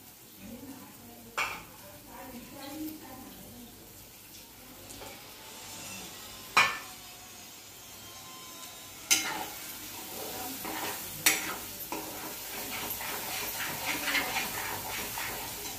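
Masala being stirred in a pan over low gas, a soft continuous scraping with gentle sizzle and a few sharper clinks of spoon against pan, close by with occasional talk.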